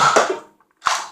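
Two sharp Nerf dart shots, each a quick burst of air and mechanism noise with a short gap between them, near and fairly loud.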